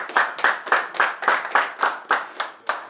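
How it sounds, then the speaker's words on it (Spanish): A basketball team claps together in a steady rhythm of about ten sharp claps over three seconds, close and clear with no talking. "Nos merecemos un aplauso"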